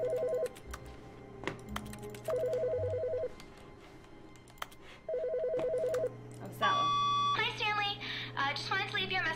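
Telephone ringing in the video game The Stanley Parable, repeated trilling bursts of an electronic ring at regular intervals over a low hum, followed by a voice talking near the end.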